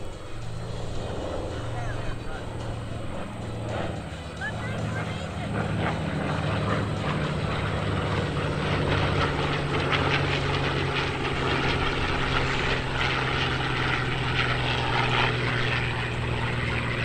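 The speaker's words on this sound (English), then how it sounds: "P-51 Mustang in formation, ladies and gentlemen, from your left to your right." A formation of P-51 Mustang propeller warplanes passes overhead at a warbird airshow, a loud sustained droning roar that thickens as they draw near, with crowd noise and a voice beneath.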